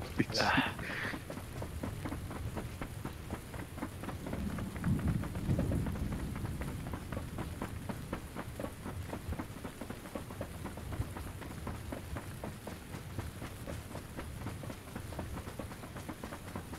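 Steady rain falls in a video game as a soft, even hiss throughout. A brief voice-like burst comes at the start, and low murmurs sit underneath.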